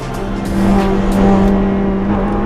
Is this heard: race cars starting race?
yes